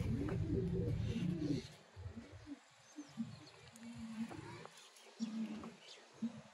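A male pigeon of a Salara and dub cross breed coos in soft, low, repeated bursts. A voice is heard at the start, and the later coos are quieter.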